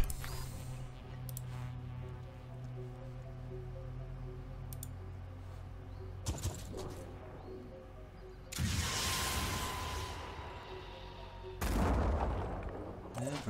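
A rocket blast in the Phoenix Point video game, heard as two loud broadband bursts over a steady, humming game soundtrack, with sharp clicks scattered between them.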